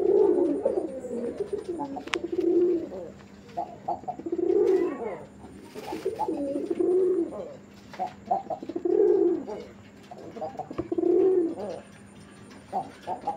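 A single male pigeon sold as breeding stock coos in repeated rolling phrases, about six swelling calls spaced a second or two apart, close and clear with faint background noise.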